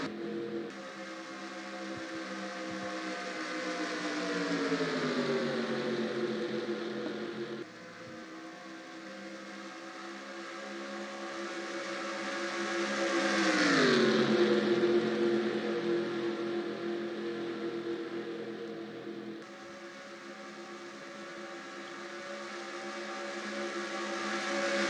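Race car engines roar around Daytona in the NR2003 racing game, a continuous layered drone whose pitch sweeps down and up as cars pass, with no talking.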